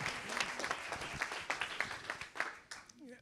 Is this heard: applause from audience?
yes